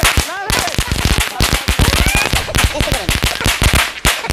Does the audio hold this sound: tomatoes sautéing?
no